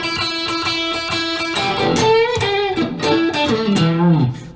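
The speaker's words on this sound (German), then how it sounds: "das ist der Sound des mittleren Pickups" An Ibanez PIA3761 Steve Vai signature electric guitar on its middle pickup plays through a classic 60s/70s Marshall Bluesbreaker amp. It starts with rhythmic strummed chords and moves into a bending, sustained lead phrase, loud and clear with no talking.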